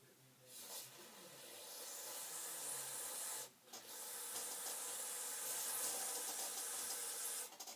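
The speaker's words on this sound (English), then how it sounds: "I have sprayed some stuff in there" Cleaner sprayed from an aerosol can into an old Commodore radio, its volume control worn and nearly unusable: a long steady hiss that runs for several seconds, breaks off briefly, then resumes close up.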